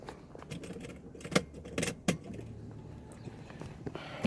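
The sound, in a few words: ignition key turned in a Mercedes ML350 W164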